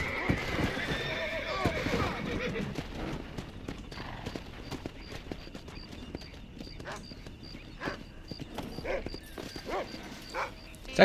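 A horse neighs and its hooves clip-clop in Red Dead Redemption, with a dog barking and yipping nearby, all under ongoing game talk and commentary.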